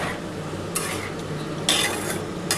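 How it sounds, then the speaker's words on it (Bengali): Cauliflower and potato are stirred into poppy seed paste in a pan, a spoon making two or three bursts of close scraping over a low steady sizzle, with no talking. "এবার ভালো করে কিন্তু এই পোস্তটার সাথে কষাতে হবে"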